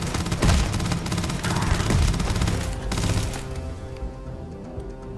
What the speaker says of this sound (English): you can probably hear me just spamming the reload button to make sure he reloads